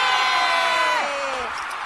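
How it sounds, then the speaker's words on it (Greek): Crowd cheering and applauding in an anime stadium as a Beyblade battle begins, a loud dense roar of voices that fades slightly toward the end. "Χειροκροτήστε, φίλοι μου!"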